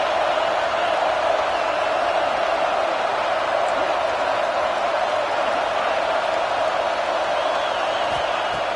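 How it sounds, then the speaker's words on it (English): A stadium crowd at a football game roaring in a steady, dense wash of noise, loud and sustained without breaks, with a commentator speaking over it. "And here comes the noise. This crowd is trying to inspire this defense to make a big red zone stop."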